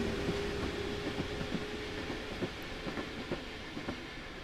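A DRG BR 194 Krokodil electric locomotive in a train simulator game pulling passenger carriages and accelerating, with a steady rumble, a faint tonal hum, and rhythmic clicking of wheels over rail joints, no voices.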